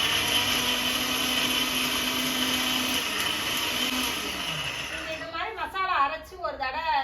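A mixer grinder whirs loudly and steadily while grinding a sautéed masala of pepper, cumin, coconut and shallots for a village-style fish curry, then cuts off as a voice starts speaking.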